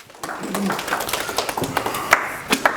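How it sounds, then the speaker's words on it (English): Audience clapping as a volunteer comes up on stage, an irregular patter of hands with sharper individual claps standing out, fairly close, with a voice faintly underneath. "give her a round of applause"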